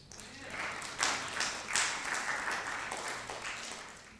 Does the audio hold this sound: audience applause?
yes